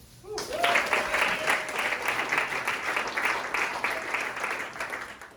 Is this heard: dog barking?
no